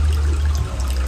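Water running from a household tap in a steady close rush with a faint trickle over it, continuous for about a second.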